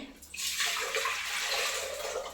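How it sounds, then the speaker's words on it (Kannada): Water is poured into a pressure cooker while cooking a home-style saaru. A gushing, splashing stream starts after a short pause and runs steadily and close for about two seconds. "ಒಂದು ನೀರನ್ನು ಹಾಕಬೇಕಾಗುತ್ತೆ"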